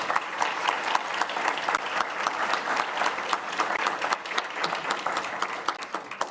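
An audience at a Brazil Forum UK event applauds a guest being introduced, a dense, steady wash of clapping sustained for several seconds without letup.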